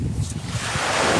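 Waves wash and surge in a broad rushing roar, mixed with gusty wind buffeting the microphone, heard briefly outdoors without talking.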